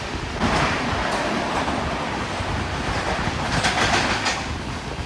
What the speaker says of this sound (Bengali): ট্রেন আবার টানেলে ঢুকছে